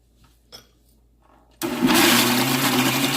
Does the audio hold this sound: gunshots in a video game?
no